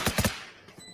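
Gunfire from an Operator sniper rifle in the Valorant video game, two or three sharp, loud cracks in quick succession at the start, then a fading tail.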